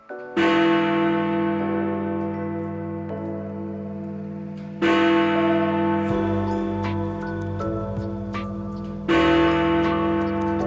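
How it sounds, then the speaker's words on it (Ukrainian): Big Ben, the great bell of over 13 tonnes in London's Elizabeth Tower, striking three loud resonant strokes, each leaving a long humming decay, with faint ticking between them. "Дзвін важить понад 13 тонн і має настільки унікальний звук, що його впізнають у всьому світі"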